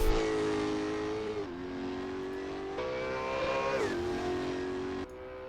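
A Holden Commodore VF race car in Assetto Corsa at the Goodwood Festival of Speed revs hard and alone, its engine note climbing and dropping with several quick gear shifts.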